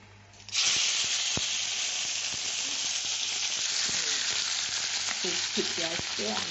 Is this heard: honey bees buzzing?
no